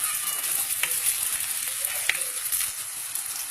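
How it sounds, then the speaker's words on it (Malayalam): Tomatoes sautéing in a pan for Goa fish curry, a bright, steady close sizzle with a couple of brief stirring scrapes, no voices. "തക്കാളി കൂടെ വഴണ്ടി വരാൻ വേണ്ടിയിട്ട് നന്നായി വഴറ്റാം"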